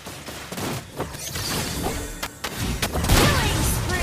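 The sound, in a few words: gunfire in a video game match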